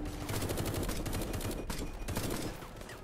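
A turret in the game Bonding Ambivalence fires rapidly with continuous dense rattling, a bit muffled and mid-distance, with short pauses in the stream.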